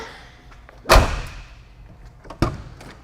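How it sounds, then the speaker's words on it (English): A Ford Foxbody Mustang door swung and shut twice after handle replacement, giving two solid slams with a rattly latch about a second and a half apart, close and loud, with no talking. "Let's see if it opens and closes the door."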